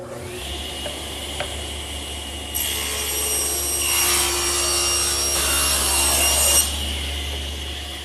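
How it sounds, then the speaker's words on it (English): A stationary saw rips and cross-cuts solid wood panels for a blanket chest, a steady motor hum rising into a loud, bright, rasping cut through the wood for several seconds before easing back to the idle drone. "to cut them, I'll just use my stationary saw"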